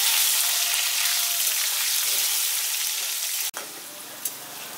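Potato pieces fry in oil until browned, giving a strong, hissing sizzle that fades slightly, then drops abruptly to a softer bubbling after a sharp clunk, as if the pan is moved.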